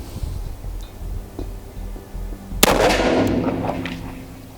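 A .45 ACP handgun fires a single loud, sharp report partway through, followed by a ringing decay, at an outdoor shooting session with Tisas and K11 pistols.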